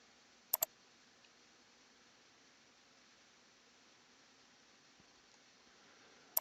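A computer mouse clicks in a quiet room, with a faint double click near the start and another at the very end over a low background hiss.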